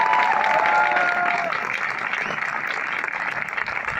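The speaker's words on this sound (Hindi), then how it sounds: "मेरे अपलाइन के लिए जोरदार तालियां दे दोस्तों" Audience at a company meeting applauding loudly, a dense sustained patter of clapping with a brief whistle-like tone early on, fading slightly over a few seconds.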